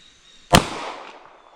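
A single sharp pistol shot from a S&W Bodyguard 2.0 fired one-handed, a loud close crack with a short decaying ring and no talking.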